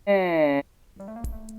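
A short, buzzy synthetic vowel-like drone from a recreated vocal tract of a 3,000-year-old Egyptian mummified priest sounds alone, then a second lower, rougher tone follows after a brief pause.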